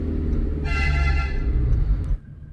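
Loud, sustained horn blast from a heavy vehicle such as a tipper lorry on a road through Muthanga forest in Wayanad at night, blaring for about one and a half seconds over a low engine rumble before cutting off.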